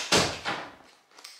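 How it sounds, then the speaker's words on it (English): A door is pushed shut indoors with a firm thud, followed by a softer second knock as it settles and a faint click of the latch, close by and with no talk. "Close the door."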